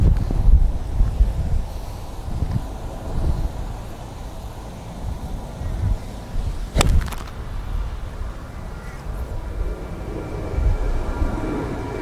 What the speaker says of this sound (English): We got the wind ripping across here